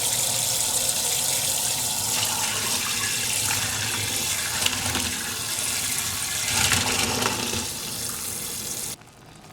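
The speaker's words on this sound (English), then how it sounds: "we're going to just be draining the water from the pasta that we have cooking" Water from cooked pasta pours out in a steady, loud rush into a kitchen sink, with continuous splashing that carries on for several seconds before cutting off abruptly.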